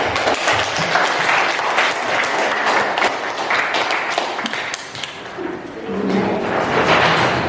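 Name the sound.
classroom applause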